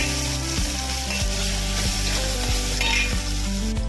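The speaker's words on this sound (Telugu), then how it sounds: "ఇప్పుడు కరివేపాకు, ఉల్లిపాయ ఇవి వేసి కొద్దిసేపు 1 నిమిషం మగ్గనిచ్చేద్దాం." Curry leaves and onion frying in hot oil in a pan for a tomato, drumstick and brinjal curry, giving a steady close sizzle with stirring scrapes and a low, constant hum underneath.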